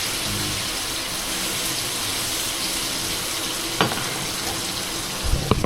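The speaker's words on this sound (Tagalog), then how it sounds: "Tapos lalagyan ko konting tubig para lumambot." Water poured into sautéed papaya in a pan raises a steady, close sizzling hiss that lasts throughout, with a few brief utensil clatters near the end.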